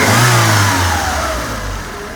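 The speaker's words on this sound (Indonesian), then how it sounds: "Coba boleh digas suara mesinnya, kita dengerin" A 1986 Honda Accord Prestige engine revs hard and close, then its pitch slowly winds down as the throttle eases over about two seconds, with no talking.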